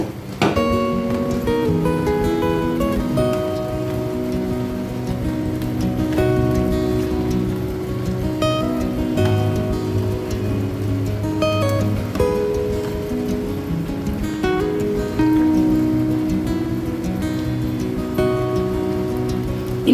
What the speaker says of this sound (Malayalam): നമ്മുടെ കറി നല്ലപോലെ തിളയ്ക്കാൻ തുടങ്ങിയിട്ടുണ്ട്